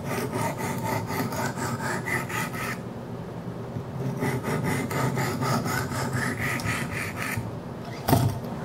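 Rhythmic back-and-forth rasping of a 200 grit Wicked Edge sharpening stone drawn along a Kershaw Skyline knife blade, close and steady strokes in bursts with a short pause and a sharper scrape near the end.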